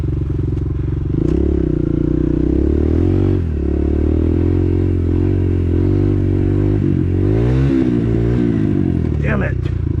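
A dirt bike engine labors through a sand pit trail at Croom near Tampa, Florida, droning loud and close with its pitch swelling and dropping as the rider revs and struggles with the gears.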